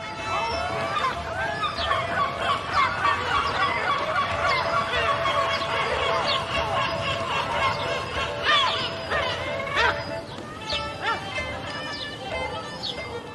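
Gulls call loudly during breeding season near a coast, a busy flock giving repeated harsh, overlapping cries close by, with a few sharper bursts scattered throughout.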